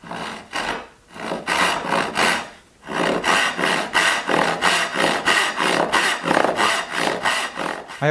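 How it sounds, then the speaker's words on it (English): A hand saw rips an edge off a wooden board clamped on a Black & Decker Workmate bench, with loud, close back-and-forth rasping strokes in steady rhythm and brief pauses, and no talking. "say I want to rip an edge off this board"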